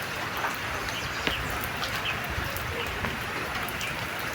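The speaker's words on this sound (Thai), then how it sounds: "ตอนนี้ก็ฝนตก" Steady rain falling outdoors in a garden area, an even close hiss of drops on surfaces with occasional sharper taps and faint bird calls in the background, no talking.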